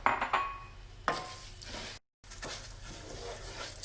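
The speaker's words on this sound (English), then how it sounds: "Let's start toasting the rice in the oil" Rice toasts in hot extra virgin olive oil for shrimp risotto, giving a soft sizzle with intermittent spoon scrapes and pan clinks. A short silent gap breaks the sound partway through.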